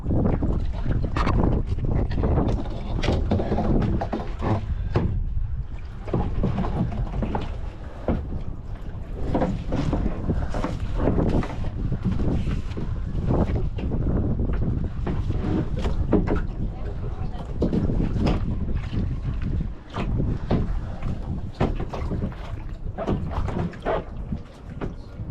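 Wind rising over open water around a paddleboard, a steady, dense rush and buffeting on the microphone that runs through the whole clip, with people talking over it.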